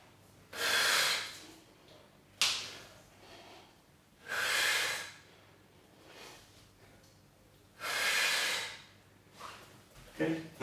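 Heavy, deliberate breathing during a resistance band workout, with four long, loud exhalations spaced a few seconds apart and sharp intakes between them, close to the microphone.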